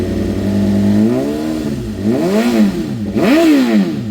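Custom 2024 BMW M1000RR motorcycle with its exhaust dB killer removed, revving close and loud from a rumbling idle in three rising-and-falling blips, the last the sharpest.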